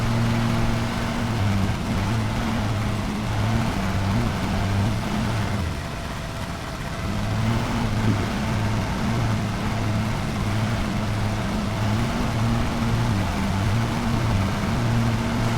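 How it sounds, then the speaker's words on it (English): Lawn mower engine running while cutting an overgrown yard, a steady mid-pitched drone with a pulsing low hum that dips briefly midway before resuming, heard close and continuous. "We didn't actually even overload the engine that time."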